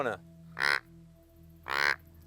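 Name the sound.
deer call imitating a doe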